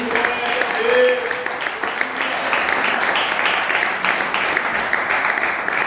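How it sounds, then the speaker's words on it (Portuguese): A church congregation claps hands in praise during a worship service, a continuous dense patter of many hands, with a brief voice or tone near the start and murmuring underneath. "podem exaltar o Senhor com as palmas"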